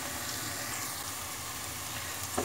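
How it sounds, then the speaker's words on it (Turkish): Pepper paste and tomato paste sizzling in oil in a pan, a steady, close, dense frying hiss that stays even throughout with no talk. "acı tatlı biber ve domates salçası üçlüsü karışımı. Biraz yağda kavuracağım."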